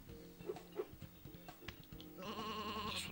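Sheep in the Sheep Dog n Wolf video game bleat faintly among soft game sounds and thumps, and a brighter bleating tone rises near the end over a quiet background.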